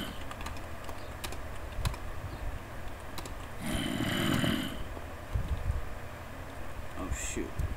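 Computer keyboard keys clack in quick irregular bursts at close range while a person talks quietly over the typing, with a brief muffled thump partway through.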